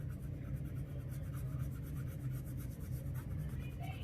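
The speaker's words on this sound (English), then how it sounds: "I'm literally just barely touching my pencil to the paper." A watercolor pencil drawn very lightly across paper gives a soft, steady scratchy rubbing, faint and continuous, with no talking over it.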